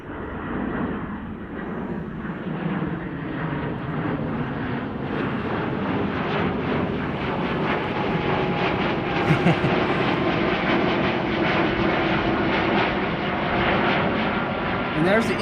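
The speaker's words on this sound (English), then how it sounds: "Delta A330" Delta Airbus A330 airliner at Amsterdam Schiphol on a sunny day, a broad steady jet engine roar that builds slightly louder toward the end, with a voice talking over it.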